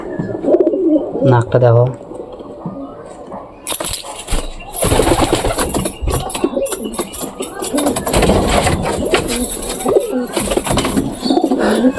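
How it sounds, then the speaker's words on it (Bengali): Domestic pigeons held in hand coo and chirp near the microphone, the calls coming in short bursts amid handling rustle, and someone speaks briefly over them. "তো বন্ধুরা, এই যে পায়রা"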